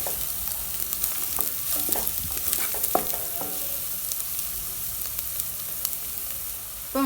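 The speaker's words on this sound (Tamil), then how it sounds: "இந்த 3மே சேர்த்து நல்லா இந்த எண்ணெயில் வதக்கிடலாம்." Masala spices and vegetables sautéing in oil for a veg kurma, a constant close sizzle with occasional stirring clinks and scrapes, no voices.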